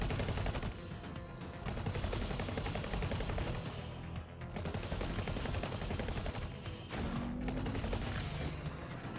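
Plasma cannons firing in the space game X4: Foundations, a dense, continuous mechanical barrage of rapid bursts with brief lulls, ending in a whooshing sweep near the end, fairly faint overall.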